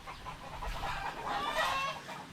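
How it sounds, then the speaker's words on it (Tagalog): A laying hen clucks in a backyard coop, a close, moderately loud run of short throaty calls over faint background noise. "Nangingitlog na manok yan."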